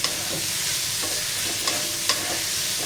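Onion and grated whole-coconut masala roasts in a pan for Malvani chicken, a steady close sizzle with a few soft scraping stirs across it.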